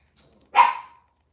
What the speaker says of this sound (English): Yep, Daisy's gonna be barking like she knows.